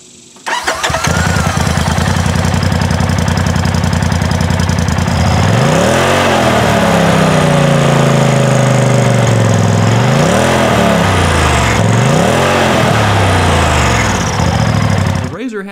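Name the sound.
Polaris RZR XP 4 Turbo side-by-side engine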